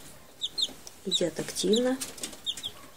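Young chicks peck and eat from a plastic feeder in a shed, giving soft scattered clucks and cheeps close by, while someone briefly speaks.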